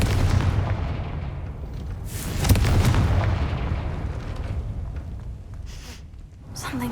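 Confringo blasting spell from Hogwarts Legacy, a heavy booming explosion with a rumbling low-end blast that swells and rolls on, followed by sharper crackling bursts as the debris settles.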